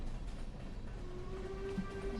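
A long train in the Stardew Valley farming game rumbles past with a steady low hum and faint tonal whistle lines, continuous and moderately loud for the whole stretch.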